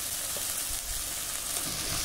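Ground spice paste with turmeric, salt and a little water frying in oil for a banana-flower ghonto: a dense, steady hiss of sizzling that fills the whole moment, close and loud, with faint stirring movement underneath and no voices.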